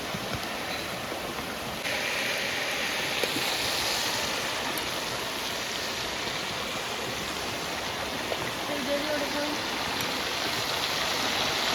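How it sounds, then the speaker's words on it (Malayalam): Continuous rushing of a nearby waterfall, steady and fairly loud, with no talking. "വെള്ളം ഒഴുകുന്ന സൗണ്ട് കേട്ടോ"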